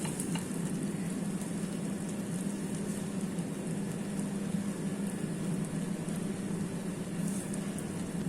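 Bread laid into a pan of melted butter for a paneer tikka sandwich, giving a steady, close frying sizzle that holds at an even level from start to finish with no talking.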